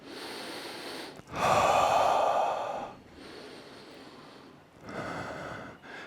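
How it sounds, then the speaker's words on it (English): Slow deep breaths during a vinyasa yoga pose, a long loud inhale followed by softer exhales, close to the mic, with no talking. "Couple deep breaths here."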